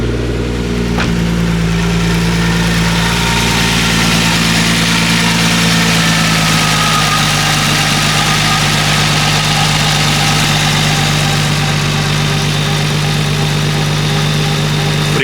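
A 1999 Nissan R34 GTR V-spec idles steadily, a loud, close, even engine drone with a deep rumble that holds without revving for the full stretch.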